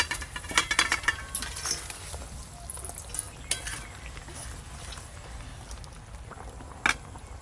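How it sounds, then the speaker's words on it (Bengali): Fried hilsa fish pieces are added to a simmering curry in a pot over a village clay stove, with soft clinks of utensil on metal, light patter and stirring sounds, close and fairly quiet, and a sharper clank near the end. "এবার ভেজে রাখা ইলিশ মাছগুলো দিয়ে দেবো।"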